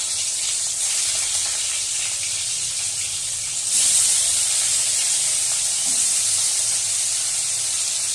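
Turmeric-coated koi fish hits hot oil with cumin seeds, setting off a steady, loud sizzle and hiss that swells sharply partway through and keeps frying on without talk.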